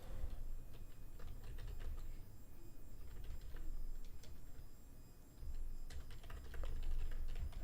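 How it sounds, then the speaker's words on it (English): Steady, quiet keyboard typing with irregular clicks running throughout, set against a low background rumble. "If you do hear typing, as I say in almost every video, that's just me making alerts"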